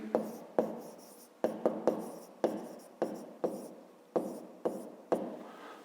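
Numbers are written by hand in a math exercise, with about a dozen crisp pen or chalk strokes tapping and scratching in an uneven rhythm, close and clear with no voices.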